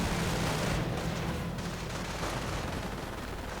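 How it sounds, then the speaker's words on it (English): Artillery fire on an American base in a video game, a dense continuous roar of rumbling blasts and crackle that fills the whole clip at steady high loudness, with no distinct single shots and no talk. "Further artillery on the American base."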